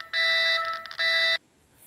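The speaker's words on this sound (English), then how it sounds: "hence the alarm squawking." A magnetic field meter's alarm squawks in two loud, shrill electronic bursts, each roughly half a second long with a brief dip between, then cuts off to near silence.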